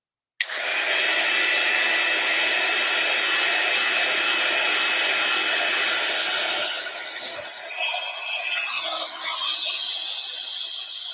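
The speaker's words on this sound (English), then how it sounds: "I'm going to heat set, so I'm going to be quiet while this is going" Embossing heat tool blowing steadily while heat-setting embossing powder on a dog-themed Christmas card, a loud continuous whooshing roar that starts abruptly and runs alone, easing slightly near the end.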